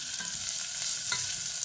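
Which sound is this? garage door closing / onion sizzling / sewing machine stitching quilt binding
onion sizzling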